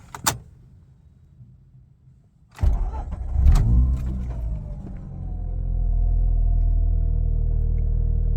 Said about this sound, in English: let me start the car first